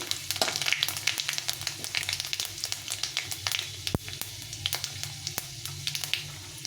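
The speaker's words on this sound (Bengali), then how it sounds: "এটা একটু লাল লাল করে ভেজে নিতে হবে" Bay leaf and panch phoron spices crackle in hot oil in a pan, close irregular pops and spits over a soft sizzle, with a few sharper ticks throughout.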